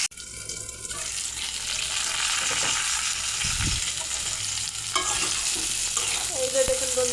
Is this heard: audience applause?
no